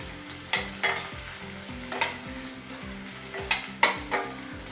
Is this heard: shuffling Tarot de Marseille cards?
no